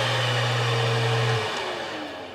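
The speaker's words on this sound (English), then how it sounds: "Level 3 kind of sounds like a real vacuum." A YikTol pet grooming kit vacuum hums in a loud, steady whine, its low tone cutting out partway through as the motor winds down and the pitch slides lower.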